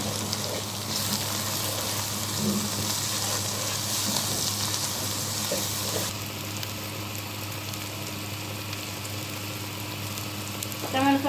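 Four spoons of berbere spice frying for an Ethiopian fish red stew give a dense, steady sizzle and hiss in the pot that softens after a few seconds, with a brief scrape at the end.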